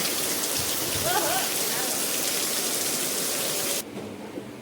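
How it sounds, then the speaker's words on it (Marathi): Heavy monsoon rain falls steadily and densely, a continuous close wash of drops that drops slightly in level near the end. "पाऊस पडतोय"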